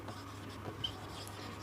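Pen writing numbers by hand on paper, a soft continuous scratching that is faint and close, with no talking.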